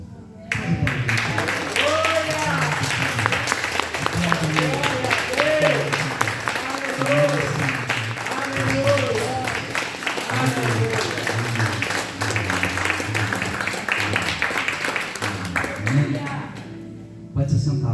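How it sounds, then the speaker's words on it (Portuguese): A church congregation gives long, sustained applause during a worship celebration, with dense clapping mixed with voices and cheering that fills the room and continues steadily before fading out at the end. "que você desse um aplauso, mas um aplauso assim daquele glorioso do Senhor"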